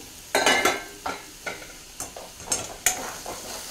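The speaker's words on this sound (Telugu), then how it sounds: "ఒకసారి మూత తీసి కలుపుకుందాం." Dill leaves frying with peanuts and garlic in a pan over a low flame, stirred in about six quick scraping strokes over a soft sizzle, close up with no talk.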